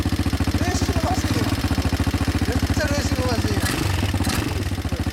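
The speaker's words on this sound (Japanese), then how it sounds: "エンジン音聞かせてもらえますか？" A 250cc three-wheel ATV engine idles loudly and close by with a rapid, regular chugging pulse, while people talk faintly over it.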